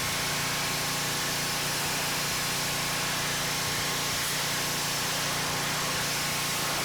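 A Ryobi gas pressure washer with a 187 cc engine running steadily at close range, a constant loud hissing drone with no change in rhythm and no talking.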